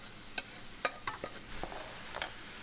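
Rice stirred into a pot with shrimp, peppers, corn, soy sauce and sesame oil, giving faint scraping strokes and soft clacks of a utensil over a low sizzle, quiet and close, without talk.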